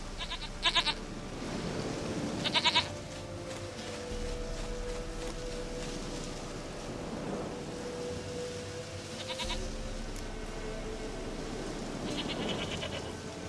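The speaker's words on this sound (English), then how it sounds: "Goat of mine, dearest, sweetest goat." A goat in The Witcher 3 bleats a few times over steady game ambience. Short, mid-loud calls come and go among soft background sounds.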